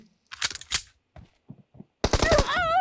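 Pistol shots ring out in a PUBG Mobile match, a couple of sharp close cracks followed by a few fainter, quick pops. A short, loud, tonal burst with a wavering pitch comes at the end.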